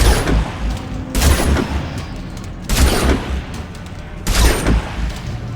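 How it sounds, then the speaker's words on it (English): Gunfire from the player's weapon in Dead Space 2, three loud bursts of rapid shots spaced about every 1.5 seconds, each followed by ringing tails and low thuds, with no talking. "You can see there's a little bit of travel time to this gun. It's not a hit scan."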